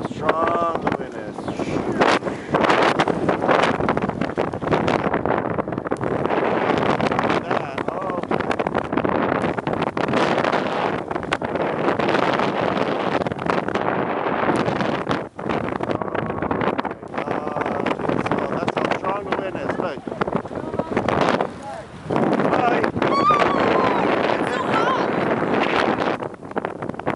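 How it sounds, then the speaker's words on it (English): Strong blizzard wind at a beach in Lynn, roaring and buffeting the microphone in loud, continuous gusts while several people talk over it. "Look how strong the wind is."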